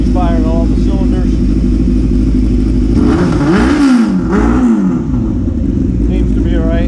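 A Yamaha YZF600R Thundercat motorcycle engine runs close by, its revs rising and falling in a couple of swells over a steady loud drone, with someone talking over it.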